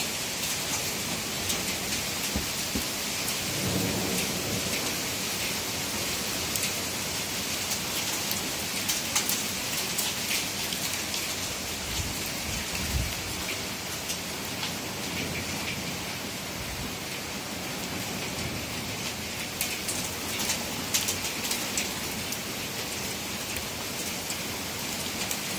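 Heavy rain pours steadily during a summer thunderstorm in Oslo, a dense close hiss of drops on surfaces throughout, with a few low rumbling swells that may be distant thunder.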